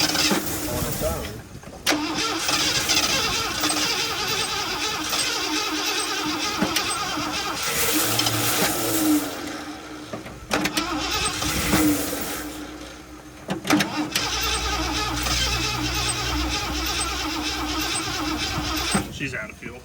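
Engine of an abandoned Ford F350 truck that sat for 22 years running loud and rough close by, with a steady idle, dips and surges, and voices talking over it.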